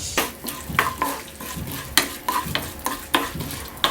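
Urad dal fries in a spoonful of coconut oil, a close, steady crackling sizzle punctuated by rhythmic scrapes and taps of a spoon stirring in the pot.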